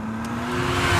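Brief engine revving from a car in The Simpsons video game, a sustained steady motor tone that swells slightly louder over about a second.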